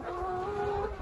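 Hens clucking around spread-out poultry feeders on a chicken farm, a steady close chorus of overlapping calls and tonal clucks running through the whole moment.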